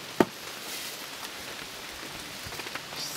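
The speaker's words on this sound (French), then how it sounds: "Ça pleut." Steady rain falling on a surface, a soft continuous patter with one sharp knock near the start.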